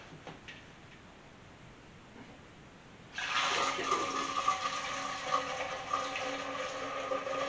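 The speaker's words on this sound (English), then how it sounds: "Dump this in the corny keg." Hard apple cider gushes into a corny keg and splashes into a sink, starting abruptly after a few seconds of quiet handling noises and continuing as a loud, steady rushing pour.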